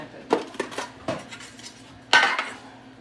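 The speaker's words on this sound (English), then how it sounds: "I grab new, I throw in the sink. Man. I wash the dishes." Dishes and cutlery clatter into a kitchen sink during washing up, with several sharp close clinks and knocks in an uneven rhythm and a louder crash near the end, no voices.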